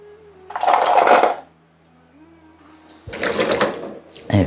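Boiled jackfruit seeds are rinsed in water in a kitchen, with splashing, swishing bursts and the clatter of seeds and a vessel, loud and close, separated by quiet gaps.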